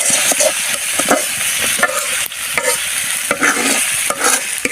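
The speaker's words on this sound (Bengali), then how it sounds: "তেল দিয়ে এই যে পেঁয়াজ ভাজি করতেছি" Onions fry in hot oil with a steady, loud sizzle, broken by repeated scraping and stirring clicks as they are turned in the pan.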